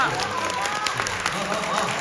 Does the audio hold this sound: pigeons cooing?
no